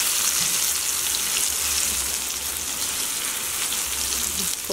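Breaded plantain slices frying in a pan of oil, a dense, even crackling sizzle heard close and constant for the whole stretch, with no talking.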